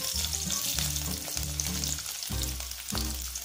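Garlic cloves frying in hot oil in a kadhai, a loud dense sizzle with crackling and rhythmic stirring scrapes, no voices.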